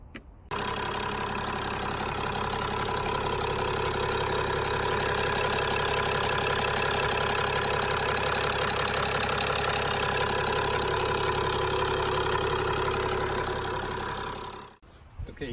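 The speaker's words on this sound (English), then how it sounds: "the car's back together now and running great" A 2006 Mercedes E320 CDI with the OM648 diesel engine idles steadily and close up, a continuous low clattering diesel drone holding even for about fourteen seconds before cutting off.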